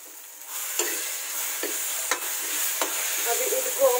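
Tomatoes stir-fried in a pan, giving a steady hiss of frying with several sharp utensil scrapes against the pan at intervals, close up and with no talking.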